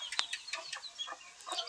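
Chickens on a small farm keeping ducks, pigeons and goats give a string of short, sharp clucks and calls at irregular intervals, close by, with no voices over them.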